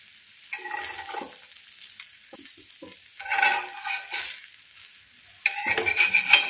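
A dosa fries on a griddle pan with the lid lifted, soft intermittent sizzling crackles that swell in bursts, with a louder frying hiss toward the end.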